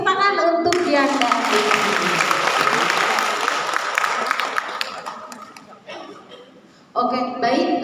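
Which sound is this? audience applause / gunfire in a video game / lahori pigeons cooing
audience applause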